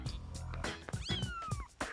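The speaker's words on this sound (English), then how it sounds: "I heard these little meowing sounds." Kittens meowing indoors, likely from inside a bedroom closet, with thin, high rising mews sounding close and moderately loud over a soft background.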